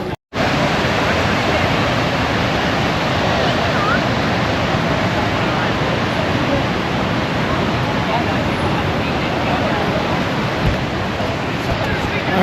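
Beach waves at Manly in Sydney make a loud, constant wash of surf noise that starts abruptly after a brief silence and roars on evenly without distinct breaks.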